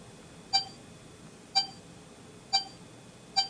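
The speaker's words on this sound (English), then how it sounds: "Instead of the click, I get a beep." Four short electronic beeps from a Sony SMP-N200 streaming player remote app sound at a steady one-second pace over faint background hiss, each one crisp and high-pitched.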